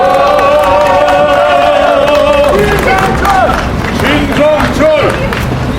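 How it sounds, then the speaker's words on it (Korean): A large outdoor crowd at a Seoul street rally claps and cheers to welcome a newly appointed group leader to the stage, loud and continuous, with shouting voices rising above the applause. "여러분 힘찬 박수로 환영해 주시기 바랍니다."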